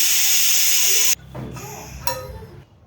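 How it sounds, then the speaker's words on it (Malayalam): A pressure cooker cooking corn releases a loud, steady hiss of steam for about a second, then cuts off abruptly, leaving quieter low rumbling and a few faint clinks. "ഇനി ഇത് 2 വിസിൽ അടിച്ച് കുക്ക് ചെയ്തെടുക്കാം."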